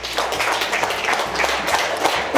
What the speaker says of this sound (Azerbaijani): Alqışlayaq Sleepy'ni